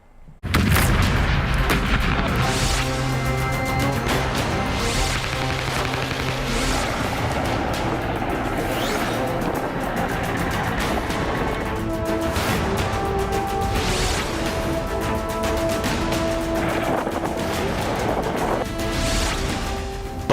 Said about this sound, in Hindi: बम विस्फोट,